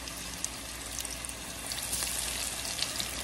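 Cabbage fritters frying in a hot pan, a steady soft sizzle with faint crackling pops throughout, close and continuous with no talk.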